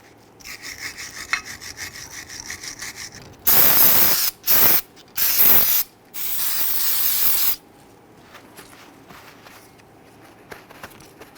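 A bristle brush scrubs the brake caliper bracket on a 2006-2012 Toyota RAV4, with several loud, harsh bursts of scrubbing in quick succession followed by quieter scraping.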